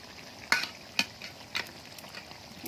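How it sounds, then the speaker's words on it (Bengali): Meat slow-frying in a pan, with a few sharp scraping stirs about every half second over a faint, steady sizzle; no one speaks. "ভালো করে মাংসটাকে একটু আবার ঢেকে ঢেকে কষিয়ে নেব"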